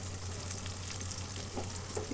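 Spices sizzle and fry in a pan while being stirred for murg pulao, a steady close crackle with faint scraping, no voices.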